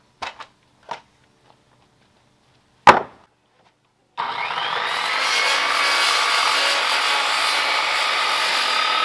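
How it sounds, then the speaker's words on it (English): A small, worn hand saw cutting wood for a picnic table build starts after a few sharp knocks, then runs as a steady, close rasping stroke that continues to the end with no talk. "This little saw has just about had it."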